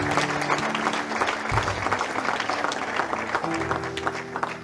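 A church congregation claps and cheers in praise of the Lord, with broad, sustained applause running throughout and crowd noise blended underneath.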